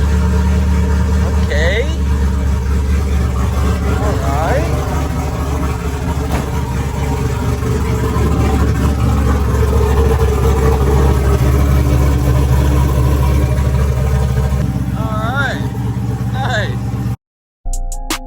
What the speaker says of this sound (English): Start this thing up. Hopefully it starts.